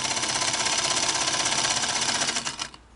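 A Singer 221 Featherweight sewing machine stitches steadily and loudly at close range, a fast even mechanical chatter that runs for nearly three seconds before slowing and fading out at the end.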